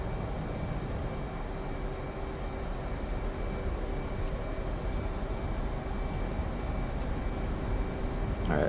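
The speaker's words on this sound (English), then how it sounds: "I'm spooling up to military power" An F-15E in the DCS flight simulator spools its jet engines to military power for takeoff, giving a steady, loud, unbroken roar with a faint whine above it throughout.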